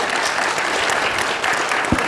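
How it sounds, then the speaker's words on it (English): An audience applauds panel speakers at a conference session on market capitalisation-weighted equity benchmarks, brief, dense, steady clapping. "A round of applause, please."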